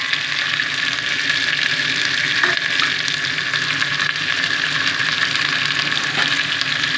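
Sprouted legumes (kaalu) frying in hot oil, a dense continuous sizzle with occasional faint stirring clinks, close and steady throughout.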